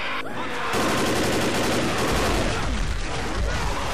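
Gunfire in the video game Death Toll 3, a loud dense fusillade of rapid shots and bursts that runs without pause for several seconds, close and harsh.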